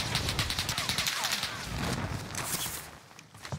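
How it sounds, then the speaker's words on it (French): Rapid bursts of gunfire in the video game Warzone, dense and continuous under game ambience, with faint footstep-like clatter and a brief lull near the end. "Ok, ça me tire dessus."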